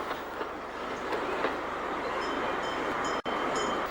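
Steam locomotive Shan running on the Bure Valley Railway at Aylsham, a steady rumble with rhythmic rail clatter and faint wheel squeal, one brief dropout near the end.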